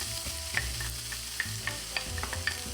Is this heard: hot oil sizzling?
yes